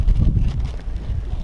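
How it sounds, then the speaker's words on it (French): Wind and waves outdoors at the edge of a lake on a cold day, a steady low rumbling wash with gusting noise on the microphone, continuous and fairly loud with no voices. "J'entends les vagues, il y a le vent, il fait froid"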